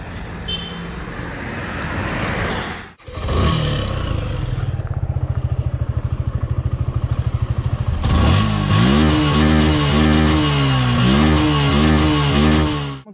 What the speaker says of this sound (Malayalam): ഇനി നിങ്ങൾക്ക് എക്സോസ്റ്റിൻ്റെ സൗണ്ട് ഒന്ന് കേൾപ്പിച്ച് തരാം.